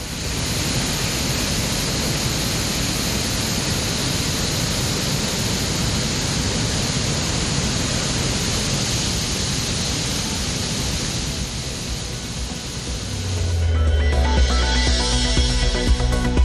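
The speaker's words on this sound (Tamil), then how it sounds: "குற்றால அருவிகளில் தண்ணீர் ஆர்ப்பரித்து கொட்டுவதால்" Water roars down the Courtallam waterfalls in a dense, steady, loud rush, with the tone shifting near the end into a deeper churning roar.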